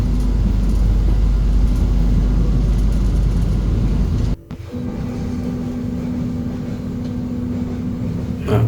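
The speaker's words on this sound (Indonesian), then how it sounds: "kereta kita bersilang dengan sesama KA Argo Parahyangan" Passenger train crossing another Argo Parahyangan train at Sasak Saat station in Indonesia, heard from aboard: a loud steady rumble with a sudden whoosh at the passing moment, then continued rolling noise.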